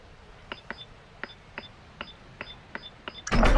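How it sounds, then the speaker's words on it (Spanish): A bomb being planted in Call of Duty: Modern Warfare II, heard as a steady series of short, clipped electronic beeps in pairs, ending in a sudden loud broadband burst. "Colocando la bomba en alfa."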